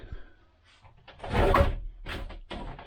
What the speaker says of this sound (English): These doors are actually magnetic, so they're clamped together.